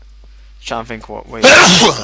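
A single loud, sudden sneeze bursts out right after a stretch of talking by the same voice, sharp and close.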